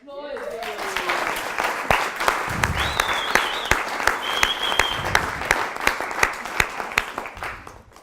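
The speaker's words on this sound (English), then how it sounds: "I think you all deserve a round of applause" An audience claps in a welcome round of applause, a dense, steady burst of many hands filling the room, with a few faint voices and sharper individual claps standing out through it.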